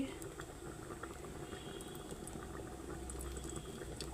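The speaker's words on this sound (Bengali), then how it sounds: "এখন আমি পরোটা ভেজে নিচ্ছি" Parathas frying in white oil in a pan give a faint, even bubbling sizzle that holds steady throughout, ending with a brief soft knock.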